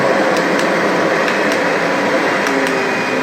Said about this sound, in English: turn the vacuum on, you can hear it running